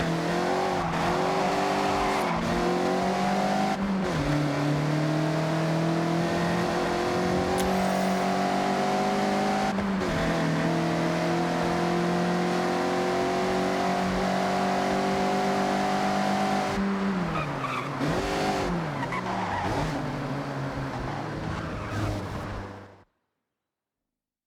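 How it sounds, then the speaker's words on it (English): Mazda MX-5 drifting through corners in the racing game Forza Horizon 6, a loud, sustained engine drone rising and falling with shifts, tires squealing through the slides, then cutting off abruptly near the end. "Attack these corners. Don't worry about traction. The MX-5 likes to be sideways."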